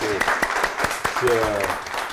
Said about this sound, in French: on peut l'applaudir vraiment